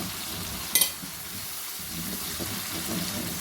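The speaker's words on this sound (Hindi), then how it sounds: "इसको फिर क्रीम को भूनेंगे इस तरह से" Cream fries in a karahi of chicken Afghani malai, a steady close sizzle with soft stirring scrapes and a brief sharp clink near the start.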